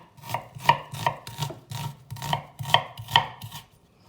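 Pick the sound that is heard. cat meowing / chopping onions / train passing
chopping onions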